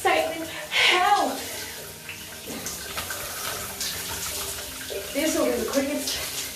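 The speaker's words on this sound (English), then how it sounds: "Next was a cold shower." Cold shower water running steadily in a home bathroom, a continuous hiss with brief gasping voices over it.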